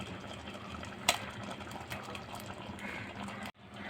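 Ground coconut paste mixed with water is poured into a Kerala-style mango pulissery curry. A steady, close liquid gush runs for about three and a half seconds, then cuts off abruptly.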